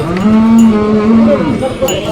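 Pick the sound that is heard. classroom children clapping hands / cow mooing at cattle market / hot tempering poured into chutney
cow mooing at cattle market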